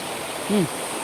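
Steady, fairly loud broadband rush of flowing water at a rain-filled swimming spot, continuous throughout, with one brief rising tonal chirp near the middle.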